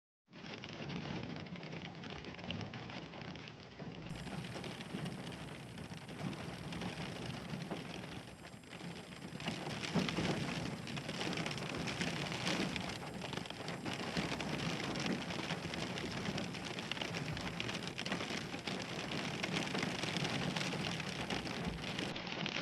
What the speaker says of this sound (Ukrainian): Єдине, що може бути тут прекрасного, це шум дощу.